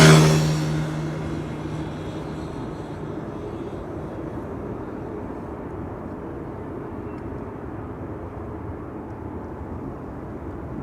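Saudia airliner arriving from Jeddah at Amsterdam Schiphol, a loud broadband engine roar that peaks at the start and then settles into a steady, sustained rumble fading slightly as it passes.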